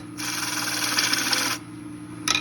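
A detail spindle gouge cuts spinning wood on a lathe, making a loud, close, hissing scrape for over a second, then a pause before a brief second cut.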